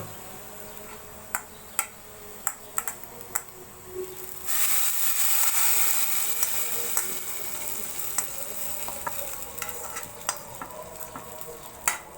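Lentils hit hot fried onions in a pan, bursting into a loud sustained sizzle midway after scattered clicks of stirring, then settling into steady frying with occasional scrape sounds.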